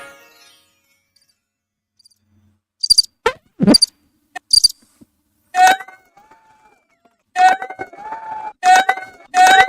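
A cricket-chirping sound effect plays as short, bright, trilling bursts with gaps of silence. The chirps come in irregular clusters, loud and close, with no talking.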